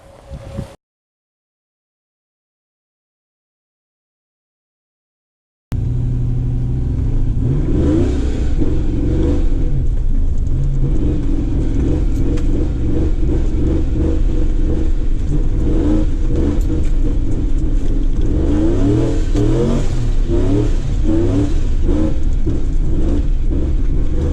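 A ProCharged Silverado 4x4 pickup with LS7 lifters launches hard and spins one wheel. After a brief sound and a few seconds of silence, a loud, continuous engine roar and revving comes in and stays close.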